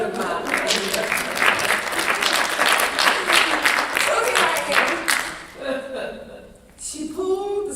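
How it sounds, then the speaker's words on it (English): An audience claps in applause through the first five seconds, dense and steady, then it fades as a voice begins speaking over the tail end. "I think I need a round of applause for this good modeling."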